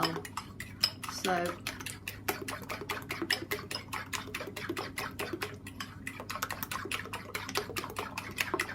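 Quiche filling whisked in a bowl, with rapid, regular clicking taps of a whisk against the bowl's sides, close and fairly loud, broken by a brief spoken word near the start.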